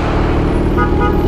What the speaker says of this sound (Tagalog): Businahan yan.